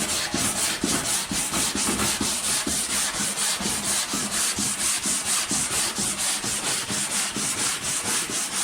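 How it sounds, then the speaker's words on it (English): An 80-grit abrasive scuffs a Lambretta GP scooter side panel in a steady, fast back-and-forth sanding rhythm, loud and close, with no voices. "Basically scuff the whole panel up with 80 grit"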